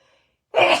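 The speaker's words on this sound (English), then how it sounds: "I have a sneeze." A single sharp sneeze bursts out close by after a brief quiet moment.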